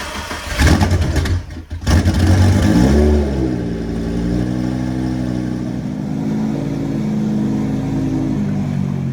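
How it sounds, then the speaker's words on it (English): Twin-turbo Lamborghini Gallardo cold-starting after sitting unused for a long time: a few rough cranking bursts, then the engine catches and settles into a loud, wavering high idle with rising and falling revs, close by and alone. "The Lamborghini Gallardo twin turbo cold start."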